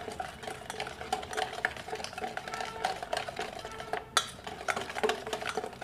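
Whisk or spoon stirring a marinade of yogurt, fresh cream and spices in a bowl, a quiet run of rapid scraping and light clinking strokes against the bowl, with no talk.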